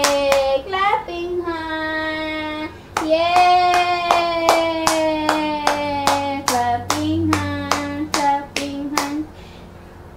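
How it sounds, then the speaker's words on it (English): Hands clap repeatedly, about a dozen sharp close claps in a steady run, alongside a small child's drawn-out vocalizing and brief adult talk at home. "Clapping, huh?"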